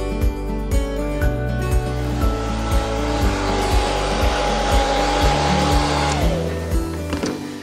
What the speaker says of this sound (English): I've been using the hairdryer to, to semi-dry this really